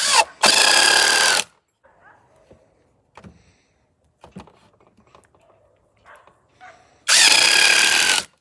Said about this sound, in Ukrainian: і спробуємо вкручувати шуруп.